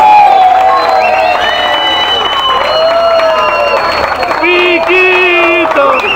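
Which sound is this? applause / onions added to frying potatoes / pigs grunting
applause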